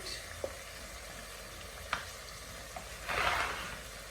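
Egusi stew frying gently in hot oil, a faint continuous sizzle with a few soft pops and a brief louder bubbling burst near the end.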